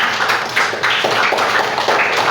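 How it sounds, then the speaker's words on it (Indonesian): A classroom of students claps together for a classmate, a steady close burst of applause lasting a couple of seconds. "Kita beri tepuk tangan untuk Arif teman-teman semuanya."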